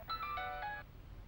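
A mobile phone ringtone plays a bright, melodic sequence of electronic tones for under a second in a home kitchen during mealtime in a Vietnamese comedy-drama, then stops, leaving low room noise.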